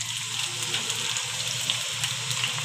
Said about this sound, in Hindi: अब हम इसमें लहसुन अदरक का पेस्ट डाल देंगे, इसको भी तकरीबन 2 मिनट हम जो है ना ब्राउन कर लेंगे